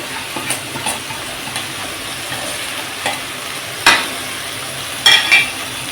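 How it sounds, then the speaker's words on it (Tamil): Chili powder, turmeric and spices fry in a pan for a Kovai-style dried fish curry, giving a steady close sizzle with a few sharper stirring scrapes and spatters. "நல்லா ஃப்ரை பண்ணிக்கலாம்."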